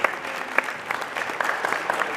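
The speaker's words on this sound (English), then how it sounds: "she deserves a round of applause" A school talent show audience gives a round of applause, individual claps distinct within a moderate, steady patter from a crowd, with no voices heard.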